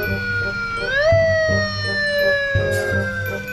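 A police siren wails, rising sharply then falling slowly, over a repeating pulsing thump in the background.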